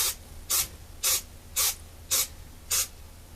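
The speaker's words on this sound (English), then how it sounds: "you're going to spray the sides" Six short hissing bursts of cooking spray onto a baking pan, evenly spaced about half a second apart, close and clear against a quiet background.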